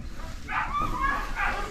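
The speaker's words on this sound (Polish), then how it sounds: "szczeniaki haskie" Husky puppies yip and whimper near a dog sled team in Levi, Finland, several short high cries in quick succession close by, with some voice activity mixed in.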